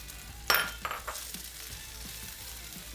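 Sliced onions and peppers hitting a hot pan for vegetarian fajitas: a sharp sizzling burst at the drop, then softer crackling frying with a few clinks of tongs stirring, settling into a quiet steady sizzle.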